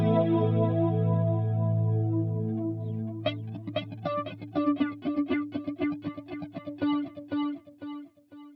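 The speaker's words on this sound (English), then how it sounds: "we're going to add delays of that signal." Electric guitar run through chorus, flanger and delay effects: a sustained, swirling chord rings out, then rapid picked notes repeat in echoing delay trails, moderately loud with no talking.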